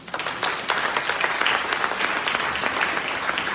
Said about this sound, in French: Merci les enfants, on peut les applaudir.